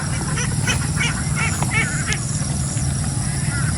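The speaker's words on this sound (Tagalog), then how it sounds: "Tunduin ko lang yung mga itik." Domestic ducks (itik) on a farm give repeated honking quacks over a steady, noisy outdoor background.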